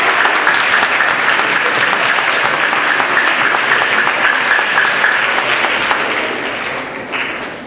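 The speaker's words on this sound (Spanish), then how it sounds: "Si gustan, le damos un aplauso." An audience breaks into sustained, dense applause after a keynote lecture on "Imaginación Heroica" by Darío Sánchez. The clapping holds steady and loud, then thins and fades toward the end.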